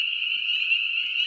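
Frogs croaking at night near a backwoods camp cabin, a dense, steady high-pitched chorus of trilling calls close by and loud, continuous with no pauses and no talk.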